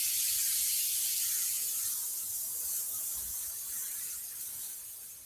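Close, continuous airbrush hiss sprays paint onto a zombie painting's tongue, steady at first and easing slightly softer toward the end.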